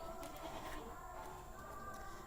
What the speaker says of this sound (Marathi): आता हे लहान शेळीचे पिल्लू फिरण्यासाठी सोडलेले आहेत